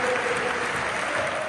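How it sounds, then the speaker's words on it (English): Football fans in a Bradford stadium crowd applaud together in support of Ukraine, a dense, sustained wash of clapping that sounds fairly distant and carries on without a break. "Fans in Bradford clapping in solidarity."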